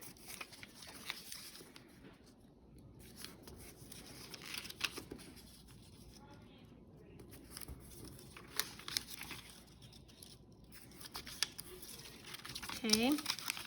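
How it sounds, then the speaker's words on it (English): A paper worksheet is folded along its dotted lines into a cube, with soft crinkling and creasing rustles running throughout alongside a person talking. "I'm gonna go down to my next dotted line and fold across that."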